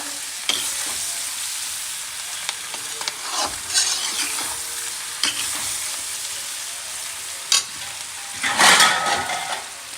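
Carrot and red chili pickle stirred in hot vinegar, a loud, steady sizzle with intermittent spoon scrapes and knocks against the pot, and a heavier stirring burst near the end; no voices.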